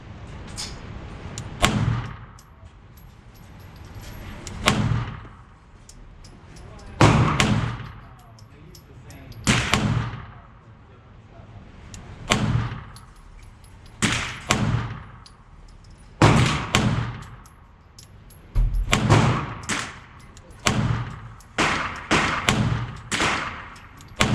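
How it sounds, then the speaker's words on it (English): Roughly fifteen loud, sharp pistol shots from an Atlas Gunworks Athena handgun, fired in uneven bursts and singles with brief pauses between strings, close to the microphone. "There's 15 rounds through the Atlas Athena."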